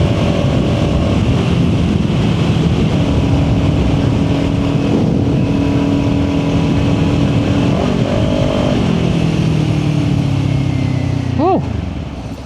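A Kawasaki Ninja 400 motorcycle cruising on an interstate highway, its steady engine drone and rising and falling harmonics continuous under heavy wind rush, loud and close throughout.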